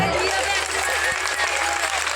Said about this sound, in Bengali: তাই প্লিজ নিজেদের জন্য একটা জোরে হাততালি হয়ে যাক